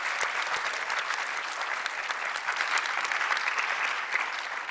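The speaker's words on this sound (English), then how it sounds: "Round of applause." A TEDx audience breaks into sustained applause, with many hands clapping evenly at a moderate distance and no break.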